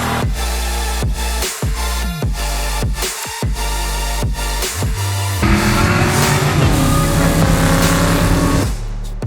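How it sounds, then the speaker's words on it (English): Drag racing cars at a rainy strip, loud engines revving in repeated bursts with sharp cut-offs, then a sustained roaring run or burnout with rising tone near the end. "We saw drag racing in the rain along with a burnout"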